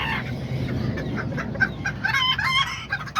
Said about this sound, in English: that's my little favorite rooster right there.